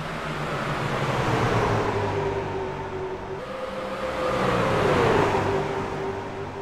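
Racing truck engines at Iowa in a racing video game, a loud sustained engine drone with shifting pitch as trucks run together, swelling and easing, with no talk over it.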